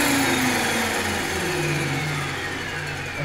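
A 550X RC helicopter comes in to land, its electric motor and rotor giving a loud, continuous whine with slowly falling pitch, close by and steady throughout with no voices.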